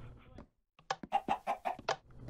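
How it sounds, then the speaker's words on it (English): Chickens cluck in the Minecraft video game, a run of short, close clucks and knocking sounds in a quick irregular series, preceded by brief talk. "So we're trying to get chickens in the backyard."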